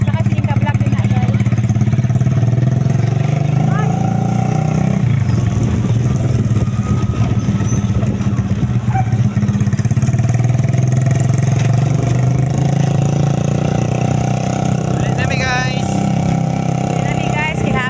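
A motorcycle engine runs at close range, idling with a steady low rumble and swelling into revs in the middle stretch, while people chat nearby over the noise.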